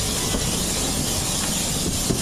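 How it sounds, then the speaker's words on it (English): Whipsnade zoo railway train passing close by, a steady loud rumbling hiss with faint clickety-clack of wagons running continuously throughout. "is too impressed with the train going past at the moment"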